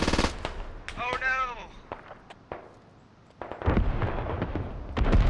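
Machine gun fire in a milsim video game comes in sharp rapid bursts, some loud and some more distant, with several lulls between them and a brief tonal sweep near the start.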